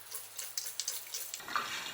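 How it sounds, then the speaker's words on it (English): Gasoline pours into a Craftsman 13.5 ft-lbs torque snowblower with a fuel leak, a steady trickling splash up close that shifts in tone near the end. "I'm going to put half an inch of fuel in here"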